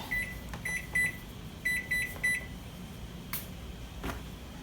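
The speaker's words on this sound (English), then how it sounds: "heat it in the microwave for 4 minutes" A microwave oven heats water for chicken stock, humming steadily while short electronic beeps sound in quick groups, followed by a few faint clicks.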